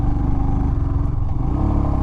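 A 2021 Royal Enfield Himalayan's single-cylinder engine chugs steadily at about 3,000 RPM while climbing a steep hill, a close, continuous low thumping pulse with no talk over it.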